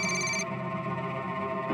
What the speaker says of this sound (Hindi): तभी पाक्या का फोन आया साहब मुझे।